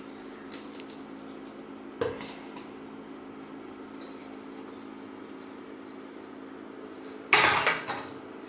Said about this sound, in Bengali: পাতা দিয়ে আমি এখন উল্টে দেব